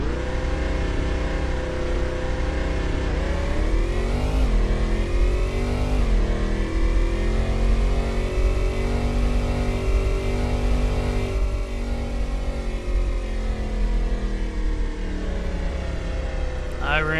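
A race car engine with a misfire revs up and settles repeatedly at a test-and-tune session, a loud, close, sustained drone with rising and falling pitch sweeps and uneven pulses, with voices talking over it.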